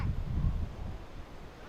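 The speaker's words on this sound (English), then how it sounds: "It's quite a strong wind here today" Strong wind sweeps across a cricket ground and buffets the microphone in a deep continuous rumble. It swells briefly, then settles to a steadier roar, with no voices over it.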